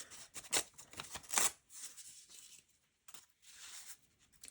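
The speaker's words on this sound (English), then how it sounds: "And I'm going to rip a piece of this" A piece of paper is torn by hand in a few quick, close ripping bursts separated by short pauses.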